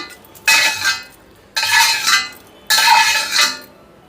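Fried curry leaves scraped out of a pan onto a plate with a spatula: three separate scraping, rattling bursts, each about a second long, with short silences between.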